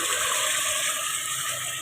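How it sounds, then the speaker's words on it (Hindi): Water is poured from a height into a pot of chicken nihari, a steady, bright gushing stream that runs unbroken and close throughout. "अब इसमें तकरीबन मैं 8 कप के करीब जो है वो पानी शामिल कर रही हूँ"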